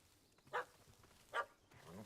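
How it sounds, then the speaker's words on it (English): A yappy little dog barking in The Witcher video game, two short, sharp barks spaced under a second apart, faint and at moderate distance. "Don't know how to handle yappy little dogs?"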